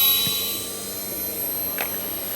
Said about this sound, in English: for the sake of showing you how well the pump works, we'll do this here now